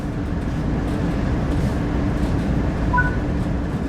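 A locomotive in Train Sim World 3 rumbles in a steady, low drone, with faint brief tones near the end.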